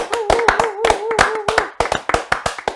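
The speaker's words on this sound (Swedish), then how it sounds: "vi borde ge han en riktig applåd" Small audience clapping in rhythmic bursts during a Swedish talk-show style conversation, close and fairly loud, with a voice sounding over the claps.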